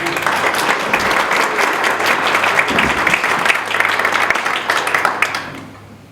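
An audience at a 2014 candidate forum in Cedaredge, Colorado bursts into sustained, loud applause to welcome the candidates, steady clapping that fades out at the end.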